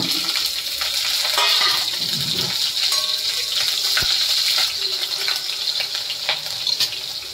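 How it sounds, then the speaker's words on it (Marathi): Cumin seeds and cut green chillies sizzle in hot oil for a bhagar fasting dish. The frying hiss is loud and steady, with crackles and a few sharp pops, and no one speaks. "आता याच्यात आपण टाकूया जिरे, मिरच्या कापून घेतल्यात।"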